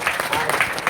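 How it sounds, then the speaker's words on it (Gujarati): Congregation clapping in a church service, a short burst of dense, steady hand claps close by, with voices mixed in under the applause. "તાળી પાડી દે દેવ બધું."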